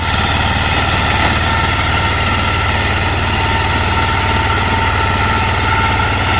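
A small BCS wheat harvesting machine working in Kashmir runs its engine steadily and loudly at close range, a continuous droning rumble with no breaks and no talk.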